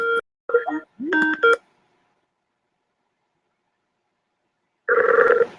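A phone call begins with a quick series of touch-tone dialing beeps, then silence, then a loud electronic telephone ring tone cuts in near the end; no one speaks.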